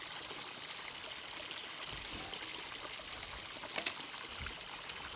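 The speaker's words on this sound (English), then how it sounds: "Now the water's coming in here, going through the filtration and back in the pond just there." Water flows steadily through an Oase Filtoclear 13000 pond filter and back into a garden pond, making a faint, continuous trickle with a few soft splashes and no speech.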